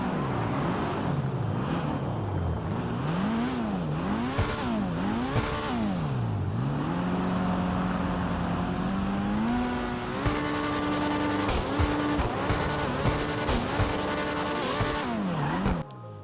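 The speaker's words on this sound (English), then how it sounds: "let's go ahead and test out the rev for the Growler" A video game Pfister Growler (Porsche 718 Cayman) sports car engine revs up and down repeatedly, rising and falling in pitch, then climbs into a sustained high whine, loud and synthetic.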